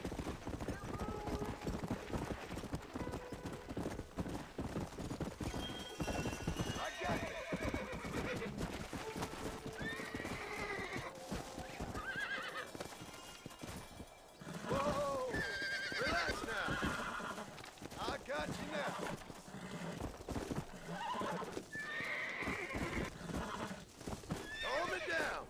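Horses whinny and neigh repeatedly in Red Dead Redemption, over clopping hooves and busy background sounds, with a person talking throughout.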